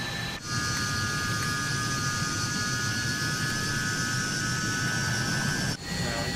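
A steady, loud aircraft engine roar in the Microsoft Flight Simulator video game, holding at a constant drone with faint tonal whines above it and stopping abruptly near the end.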